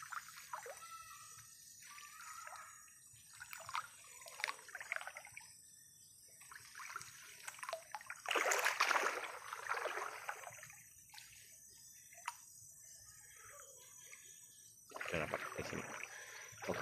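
A fast-flowing river current rushes steadily past a small boat, with splashing and gurgling bursts that swell louder in places, heard close up without talk.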